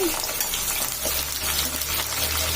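Green chillies fry in hot oil with potato, giving a steady, loud, close sizzle that hisses without pause throughout.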